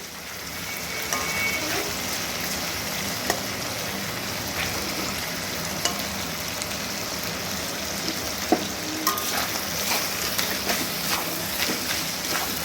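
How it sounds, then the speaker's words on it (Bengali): Fish head mash being stirred in a pan, a continuous soft crackling sizzle with scattered clicks and taps of the spoon over nearly thirteen seconds, close and moderately quiet, with no voices. "এবার নাড়াচাড়া করে এর সঙ্গে মিশিয়ে দিলাম"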